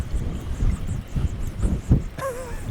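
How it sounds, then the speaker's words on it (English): Strong wind buffets the microphone in loud, uneven gusts and rumbles on a UK shoreline, with a brief whistling tone near the end. "It's so windy, guys"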